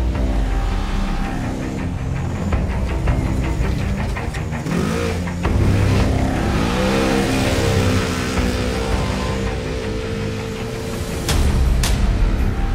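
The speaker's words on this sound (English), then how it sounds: "We were full throttle the whole way, and it's amazing that these UTVs can handle the abuse that they actually can handle." A racing UTV engine runs at full throttle on a Baja 1000 pre-run, roaring loudly and continuously with rising and falling revs, heard up close over constant road rumble.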